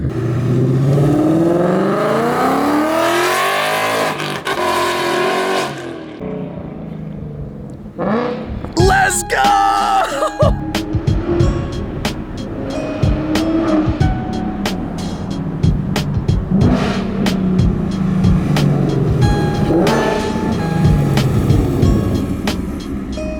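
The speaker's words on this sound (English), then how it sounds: "it's the perfect exhaust setup for the Mach 1 by far" A Ford Mustang Mach 1 with Kooks long tube headers and an X-pipe or H-pipe ahead of the catback exhaust revs loudly and close in repeated sharp bursts and rumbles, after an excited voice shouts and people talk over the engine.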